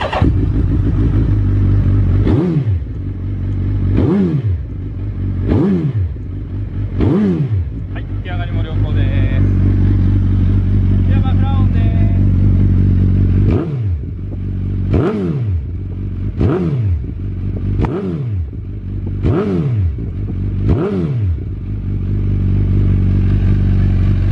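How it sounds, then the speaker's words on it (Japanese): A Canadian-spec Suzuki GSX1300R Hayabusa with a twin Yoshimura exhaust runs loud and close, its deep idle broken by a series of sharp throttle blips spaced about a second apart, with a short quieter stretch midway. "えー、吉村マフラーの重点音をぜひ体感してみてください"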